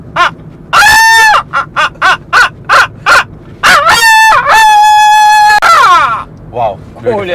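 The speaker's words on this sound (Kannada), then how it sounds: "ಕೋಳಿ ಆದ್ರೆ ಸೂಪರ್ ಸರ್" A rooster crow coming out of a sound system, loud and near: a string of short harsh harmonic calls leading into a long drawn-out crow, then a few fading squawks.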